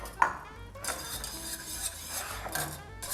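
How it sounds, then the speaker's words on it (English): A whisk scrapes and swirls through chicken stock, heavy cream and water in a pot heating toward a boil, giving a continuous soft metallic stirring and rasping with light clinks against the sides, fairly quiet and with no talking. "make sure you're whisking it at all times"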